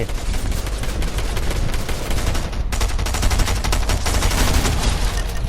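Rapid bursts of automatic gunfire from a Fortnite match crackle almost nonstop, dense and close, with volleys layered over one another across the whole stretch.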